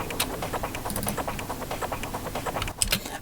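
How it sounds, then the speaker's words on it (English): Trance percussion thickener loop with a rounded low end, a quiet, dense stream of rapid ticking hits and shakerlike rattles over a soft continuous thump, looping steadily with no voices. "So the third thickener loop sounds like this."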